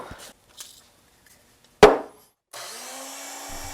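After a few faint handling sounds and a sharp single knock, a drill press boring holes into the ways of a homemade Gingery lathe whirs up and runs in a steady, close motor hum.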